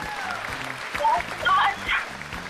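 Studio audience on an Uzbek game show applauds a prize winner, brief bursts of clapping under someone talking over it.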